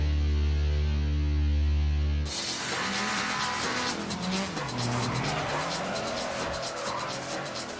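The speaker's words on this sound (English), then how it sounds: "the car looks like it's out of control, but it's on the edge of control at all times" A drifting car's engine drones, then cuts abruptly into a loud, sustained tire squeal with wavering pitch and revving engine underneath, skidding continuously to the end.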